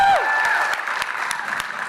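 An event audience claps and cheers in a practice round at a startup accelerator pitch event, a loud, steady burst of applause and crowd noise that follows a rising shout.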